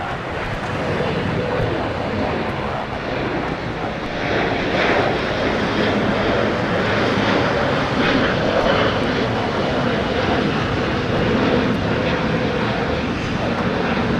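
A steady, loud jet roar from an airliner departing Los Angeles LAX airport, a broad rumble that holds for the whole stretch and swells slightly midway.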